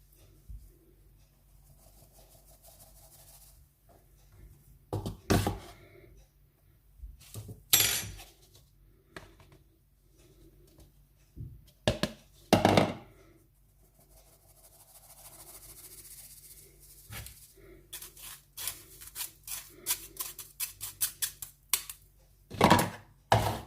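Brownie sponge cake batter being stirred carefully in a bowl, giving scattered clinks and scraping taps of utensil against the bowl, in irregular bursts with quiet gaps between.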